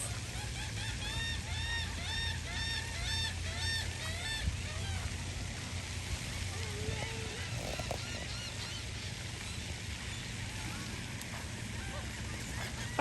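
Ducks and geese honk in repeated bursts, fairly faint and a little distant, over a steady background hum, with a few voices in the scene.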